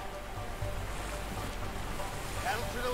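Oars paddling a boat through water in the A Way Out video game, a steady wash of water and low rumbling movement with a wind-like hiss and a faint voice.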